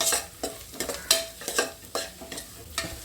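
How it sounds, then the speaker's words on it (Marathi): Sawai masala is sautéed in oil for kala chicken, with a spoon scraping the pan in a quick, regular rhythm of close, crisp strokes over a continuous sizzle. "हा सुद्धा तेलामध्ये चांगला परतून घेते"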